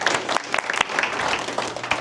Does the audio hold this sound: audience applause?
yes